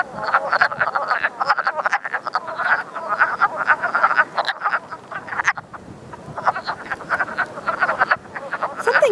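Wood frogs call from a vernal pool in a dense chorus of short duck-like clucking croaks, overlapping and continuous with a brief lull midway.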